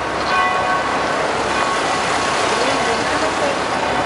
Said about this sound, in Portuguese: Eu quero gravar esse sino tocando.